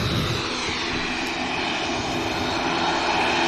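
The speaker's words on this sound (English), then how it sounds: "Literally gliding off the runway, the Polaris." An aircraft climbs away from the runway at Manchester Airport, its engines a loud, continuous broadband roar that holds steady and builds slightly, with no voices over it.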